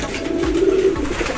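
A racing pigeon cooing close by in a loft area, one loud, low, rolling coo lasting over a second with a slight throaty flutter.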